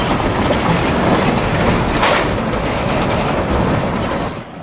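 Train wheels roll through a spring switch in dark territory at about ten miles an hour on a Gulf Wind route main line, a loud steady rumble and clatter of railcars passing close by with no voices.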